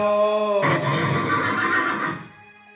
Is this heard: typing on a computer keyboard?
no